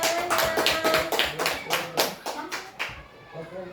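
A small group of teachers claps in short, uneven bursts during a school sharing session, the taps fairly close and moderate, ending abruptly into quieter room noise.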